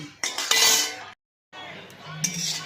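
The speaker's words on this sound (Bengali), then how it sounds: "দিয়ে একটু গরম কড়াই নেড়ে নিচ্ছি।" Metal utensil scraping and clinking against a hot wok while stirring spices and cashews, in short bursts, broken by a moment of silence, then more stirring clatter.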